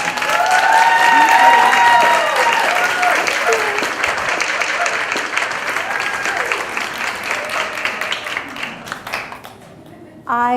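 Audience applause at the Mad City Vegan Fest 2017 welcoming a speaker, a dense sustained clapping from an indoor crowd that slowly thins out and fades over about ten seconds, with a voice starting right at the end.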